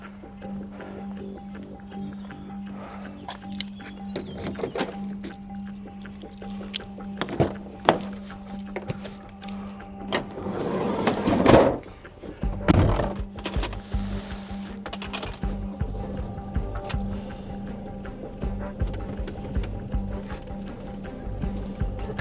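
A car engine cranks and fires at a workshop after a camper trip breakdown, with a loud churning burst midway that then settles into a steady idle hum, and thuds and faint movement sounds before it.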